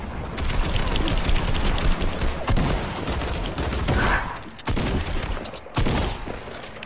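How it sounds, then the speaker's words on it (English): Burst-fire SMG in a video game rattles off loud, dense volleys nearly nonstop, with brief gaps between bursts. "I never used this SMG before. The burst SMG"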